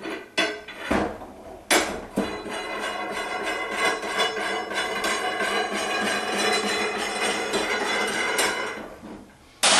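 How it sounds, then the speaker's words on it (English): A 17mm wrench undoing a bolt at the bottom of a vending tower machine, heard as sharp metallic clanks and clinks followed by a steady scraping, ratcheting rasp, close and alone. "Pick up your 17mm. You can undo the bolt at the bottom."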